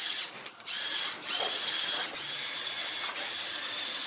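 A LEGO sand system for burying a minifigure in a mini sand tank runs with a steady mechanical whir and ratcheting clatter, punctuated by a few short dips and clicks, close and continuous without talk.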